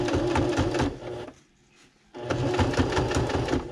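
Sewing machine stitching thick gun case fabric with heavy-duty thread, loud and close, running in two bursts separated by a short pause.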